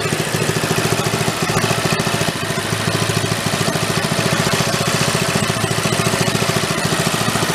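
Big engine fitted into a tiny 1960s Corvair Monza toy car idles with a steady, loud, rhythmic chugging throughout, dipping briefly once, with no talk over it.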